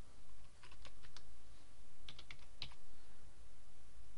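A short run of soft computer keyboard key presses, a few scattered taps then a small cluster, as a password is entered, over steady background hiss with no talking.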